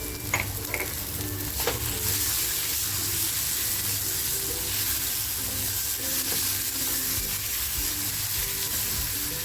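Masala sizzles and fries in a pan in a fish curry preparation, a steady close crackle with a few faint clinks of stirring.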